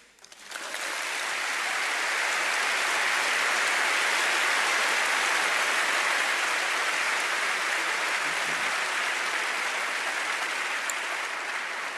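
Sustained audience applause at a Festival of Dangerous Ideas event swells in within the first second and continues as a dense, even wash of clapping for the full span.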